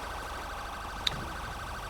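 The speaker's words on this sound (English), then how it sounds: "Maybe I can turn this motherfucker siren off. Non-ELS ambulance." An older non-ELS ambulance siren in the video game GTA 5, a steady wail under a constant low engine rumble, moderately faint with one brief sharp click partway through.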